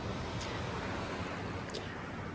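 Sea waves at natural ocean pools on the coast of Tenerife, a continuous broad roar of surf and water wash with some wind rumble, steady and fairly loud, no voices.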